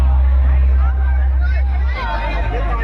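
A dense crowd murmurs at an ABVP student election rally, with many overlapping voices forming a steady, close babble under a low rumble of traffic or engines.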